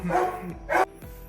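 Dogs bark outside a house in a few quick, fairly close yips and woofs, with a pause between bursts.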